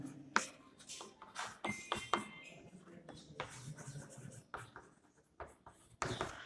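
Chalk or a marker writes on a classroom board in a science lesson, making close, scratchy strokes and taps in irregular bursts with short pauses.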